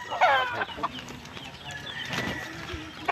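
Chickens cluck and a rooster calls at a pen of fighting roosters, the fowl sounds loud and close in short bursts, with a faint crow-like call partway through and no talk.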